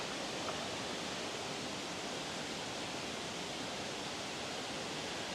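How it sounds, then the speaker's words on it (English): A waterfall near a caravan site in Wales, heard as a constant broad rush of falling water, even and unbroken throughout, with no voices over it. "I've heard a waterfall somewhere here."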